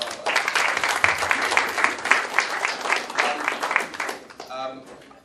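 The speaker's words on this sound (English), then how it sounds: "So let's give it all a round of applause." An audience at a startup and young entrepreneurship event gives the speakers a round of applause, a loud dense burst of clapping that tapers off near the end as a voice starts speaking.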